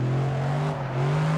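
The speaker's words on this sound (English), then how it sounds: "I like the rev limiter that it has on this one." Engine-swapped Subaru BRZ / Toyota 86 / Scion FR-S sitting at its rev limiter, a loud, sustained buzzing drone held at a steady high pitch for a moment, with no talk.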